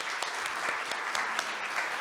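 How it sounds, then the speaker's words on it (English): A crowd claps steadily, a dense patter of many hands at moderate volume with no voices over it. "applause."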